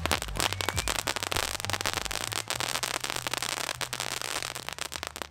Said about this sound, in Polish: Najbardziej mi się podobały te fajerwerki